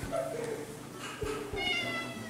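A cat meowing in a horse barn, several short, fairly faint meows in quick succession, with a person speaking softly nearby.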